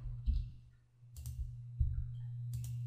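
Computer mouse clicks while working in SAM Broadcaster radio software: a few sharp, close taps spaced unevenly over a faint steady hum.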